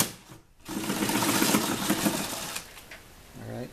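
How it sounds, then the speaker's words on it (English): A power ratchet or drill spinning off a 10 millimeter nut from the hood ground strap of a 2007 Chevrolet Silverado, a close, fast buzzing whir lasting about two seconds, with a brief clink afterward. "there's a 10 millimeter nut there. I'm going to remove that"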